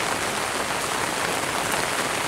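Heavy rain pours down steadily in an outdoor setting, a dense, continuous hiss of drops on surfaces that stays loud and even throughout, with no voices.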